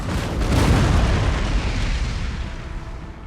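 Artillery cannons booming in Napoleon: Total War, a loud deep blast that swells and rolls on in a long, slowly fading rumble with no talk over it.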